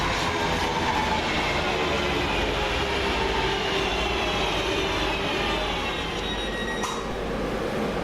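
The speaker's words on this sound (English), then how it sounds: "323-211 and 323-241 arrive with the 1456 West Midlands Railway service from Four Oaks to Redditch" Two coupled Class 323 West Midlands Railway electric units, 323-211 and 323-241, pull into Bournville station on the Four Oaks to Redditch service. A close, steady rumble carries rolling wheel noise and brief high brake squeals.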